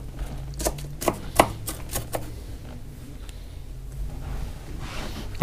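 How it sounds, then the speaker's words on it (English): A knife chops an onion on a cutting board while bacon pizza is prepared, giving a handful of crisp, close chops in quick succession early on before fading to quiet room noise. "Let me cut up this onion quick."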